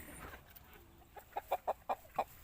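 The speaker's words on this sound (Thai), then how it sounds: "ไก่ดำครับพี่น้อง ไก่ดำสายพันธุ์อินโดครับ" An Indonesian-breed black chicken on a rural Thai homestead gives a run of five or six short, evenly spaced clucks, close and fairly clear over faint background noise, with no talk.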